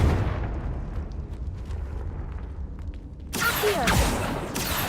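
Confringo fire spell exploding in Hogwarts Legacy, a loud, sudden blast that erupts after a rumbling stretch of game ambience, followed by a roaring, crackling tail.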